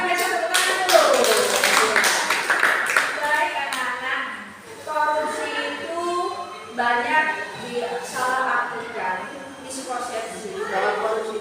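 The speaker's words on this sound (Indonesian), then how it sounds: "biasa tepuk tangan dulu" Students applauding in an SMK Trunojoyo Jember classroom during an anti-corruption lesson: a dense burst of hand clapping rises over the first few seconds, then thinner, scattered claps continue under children's chatter and voices.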